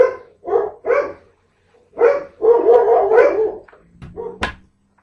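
Several dogs barking loudly in bursts, close by, with a quick run of overlapping barks and a few higher yips toward the end.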